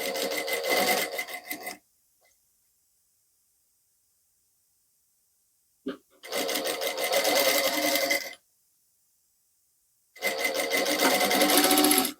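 A sewing machine stitches a binding strip onto a neckline in three loud bursts of rapid running, separated by silent pauses, with a brief click before the second burst.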